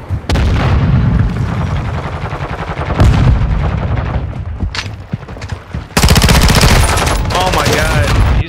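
Rapid video game gunfire bursts in a shooter match, loud and dense with booming shots, one pause and then renewed automatic fire, with players' voices mixed underneath.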